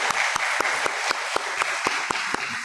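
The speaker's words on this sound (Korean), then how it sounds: "장지영 권사님 나오실 때 큰 박수로 환영하시겠습니다." A congregation at a Sunday afternoon church service claps in welcome, with steady, dense applause and sharp accents at regular beats, close and lively.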